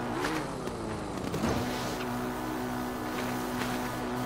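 A Hylian motorcycle engine in a Zelda video game hums steadily throughout, with a sustained tonal drone and a brief surge near the middle, fairly loud and without speech.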